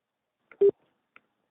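Telephone handset tone after a call is cut off, a single short steady beep with a couple of faint clicks around it, heard alone with no voices.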